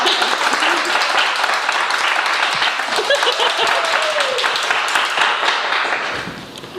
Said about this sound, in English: Love the applause.